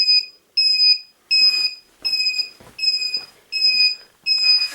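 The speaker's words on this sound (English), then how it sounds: "digital flasher relay that also has an audio beep" A digital flasher relay on a KLR motorcycle with LED turn signals beeps in a steady rhythm, seven loud, clear electronic tones repeating about once every two-thirds of a second, with faint clicks between.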